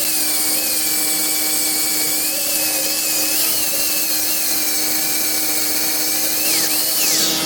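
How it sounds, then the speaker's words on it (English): Power sander grinding down a welded steel frame on a tandem axle tilt-bed trailer, a loud, steady whine running unbroken and alone, with a brief rise in pitch near the end. "let's sand it down."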